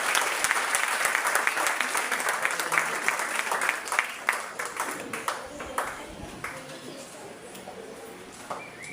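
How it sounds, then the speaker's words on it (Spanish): Church congregation applauding during a service, a full round of many hands clapping that stays strong for several seconds before gradually tapering into lighter scattered claps. "Pueden sentarse, no sin antes aplaudir a Dios."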